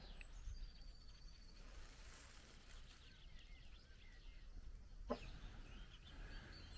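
Faint, low clucking from chickens roosting at night in a quiet space with steady background hiss, one brief sharp click partway through.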